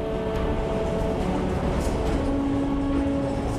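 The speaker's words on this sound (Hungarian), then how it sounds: "10 nagy völgyhíd hátán ván szorog az éles kanyarokban sikongó vonat" A train rolls steadily along a winding mountain railway in the Banat's Aninei Mountains, a continuous rumble with faint high squeal tones from sharp curves and no voices.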